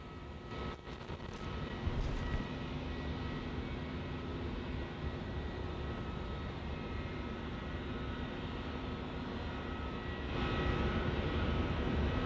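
Airwork Boeing 737 Classic jet departing on runway 23 at Auckland Airport, a steady broadband engine roar heard from a distance that holds constant and swells slightly near the end.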